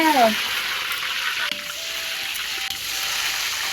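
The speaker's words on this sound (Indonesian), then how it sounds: "Goreng tempe." Tempeh crackles and sizzles steadily in hot oil, a close, constant frying hiss with a faint tone and occasional light clicks.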